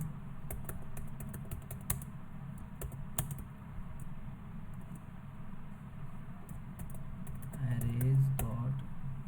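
Code is typed on a computer keyboard in scattered bursts of light clicking under steady background hum, and a voice talks briefly near the end.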